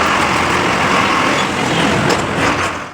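A Maharashtra state bus rumbles and rattles at the Erandol bus stand, a loud, broad, continuous mechanical clatter that cuts off at the end.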